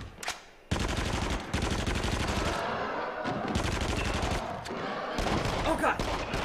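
Rapid, dense bursts of pistol gunfire in the VR shooter Until Dawn: Rush of Blood, loud and close, firing in long spammed runs broken by brief pauses, with faint game effects between bursts.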